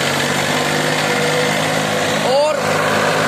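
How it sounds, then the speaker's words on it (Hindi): A Mahindra 265 DI tractor runs steadily nearby with a constant mid-pitched engine drone, while someone talks over it. "और कितनी शानदार आवाज है ट्रैक्टर की।"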